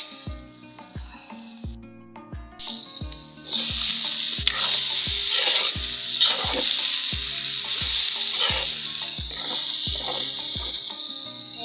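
Chopped banana stem frying in a pan with salt and turmeric, a steady close sizzle swelling louder partway through, with regular stirring scrapes and taps of the spatula ticking along the whole time.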